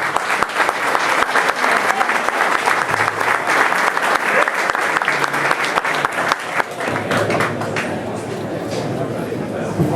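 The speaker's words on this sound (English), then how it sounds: "We can give a round of applause." Loud, dense clapping from the audience at a soccer club's 40th anniversary ceremony, sustained for several seconds and then thinning out, with voices and chatter mixed in underneath.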